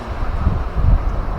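Wind buffets a microphone on a suspension bridge in Punakha, Bhutan, a close, rumbling low gust that swells and fades steadily with no voices.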